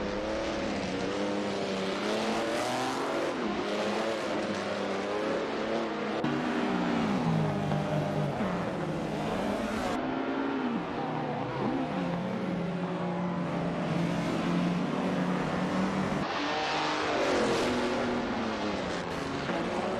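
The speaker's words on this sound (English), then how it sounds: "We're currently watching our driven racing cars in a simulator" AI-driven 1950s Formula One cars race in a simulator game at the Bahrain circuit, their engines whining and revving continuously as cars pass and trade places, loud and sustained with no talk.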